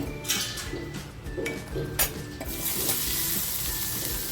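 Finely chopped garlic dropped into reused hot frying oil sizzles steadily in a pan while Bombay duck chilli is being cooked, with a few stirring scrapes and utensil clinks over the frying hiss.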